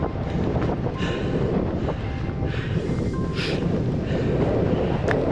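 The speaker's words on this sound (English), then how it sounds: "It's starting to get windy again." Steady wind buffets the microphone in the open Icelandic highlands near Mýrdalsjökull glacier, a continuous low rumble with gusty swells and no pauses.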